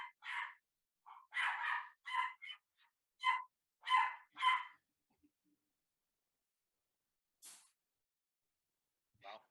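A dog barks in a quick series of about eight sharp, close barks, then falls silent apart from a couple of faint, brief sounds near the end.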